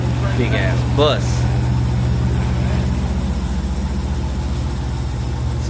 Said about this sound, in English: It's a big ass bus.